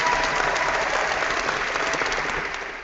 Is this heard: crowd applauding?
yes